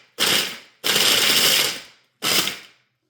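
Robin Eggs malted milk candies being crushed for Rice Krispie treats, heard as three loud, close bursts of crunching and cracking with short pauses between them and no talking.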